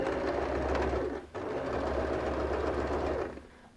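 A sewing machine runs steadily, stitching a zipper into a bag made from recycled jeans, with a dense mechanical whir close by, one brief pause partway through, then the motor winds down near the end.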